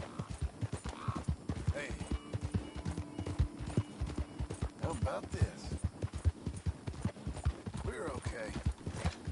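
Horse hooves clip-clop in a quick, steady rhythm while riding in Red Dead Redemption 2, close and continuous, as someone talks intermittently over the hoofbeats.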